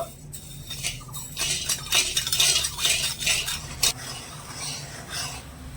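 Sugar, water and two cardamom pods are stirred in a wok to melt the sugar, with a spoon scraping and clinking against the metal in repeated close strokes at moderate loudness and no talking.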